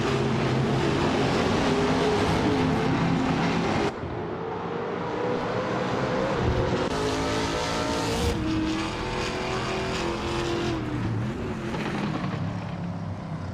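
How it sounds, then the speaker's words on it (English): A 2014 Suzuki Swift race car, a light, agile rather than powerful machine, drones steadily at close range with continuous engine roar and shifting revs throughout, with a brief dip midway. "Alex Hasnobrain is racing a 2014 Suzuki Swift, known for agility rather than power"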